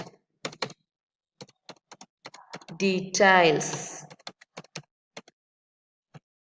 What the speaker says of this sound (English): now I'm typing as student